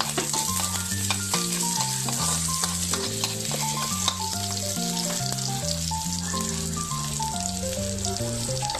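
Onion sautéing in a pan for ginisang tabugok, a steady close sizzle running under prominent background music.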